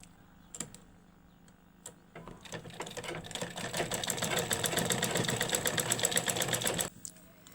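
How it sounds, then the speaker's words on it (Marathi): A sewing machine stitches fabric for a flower-style latkan tassel, a few short bursts first, then a steady, fast rhythmic run of several seconds up close before stopping. "चारही साईडला अशी शिलाई मारून आपण बघा हा कापड इथे अटॅच करून घेतलेला आहे"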